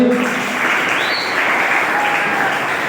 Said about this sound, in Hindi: तमाम बच्चे पुरजोर तालियां बजाएंगे